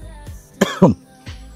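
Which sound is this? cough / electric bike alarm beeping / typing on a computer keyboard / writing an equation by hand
cough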